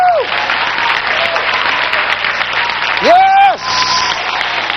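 Church congregation applause rolls on as a thick, sustained clatter of hands while a voice whoops and shouts over it.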